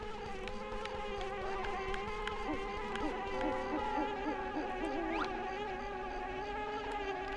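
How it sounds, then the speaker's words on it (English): A mosquito buzz in the video game Banjo-Kazooie, inside a maze level: a thin, wavering whine that drifts up and down in pitch, alongside steady game music, with no talking. "I'm hearing like a mosquito or something."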